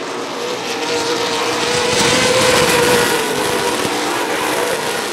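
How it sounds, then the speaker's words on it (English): Late model race cars roaring around the oval at Rockford Speedway, a loud, steady blend of several engines at full throttle that swells slightly midway, with no talking. "Kiley's car really low in the corner, but he gets out of the corner really nice"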